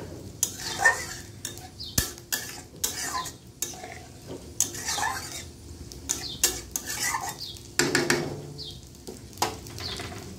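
Potol posto, a poppy seed paste, simmers in a pan, with a soft bubbling sizzle broken by sharp clinks and scrapes of a utensil against the pan. The sounds are close and uneven.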